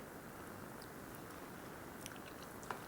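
Cooked vegetables being tasted and chewed, a faint, steady close-up mastication under a soft hiss, with a small crunch near the end and no talking.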